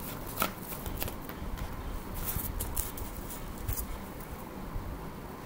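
Tarot cards being shuffled and drawn, a steady papery riffling and soft slapping of cards that runs throughout, close and moderately quiet, with a few sharper snaps along the way.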